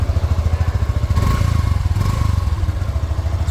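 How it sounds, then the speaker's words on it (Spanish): Exhaust of a 2026 Yamaha FZ 3.0 motorcycle idling up close, a loud low rhythmic putter that briefly revs higher with rattly pulses before settling back to a steady idle. "vamos a aprovechar para escuchar el sonido del escape"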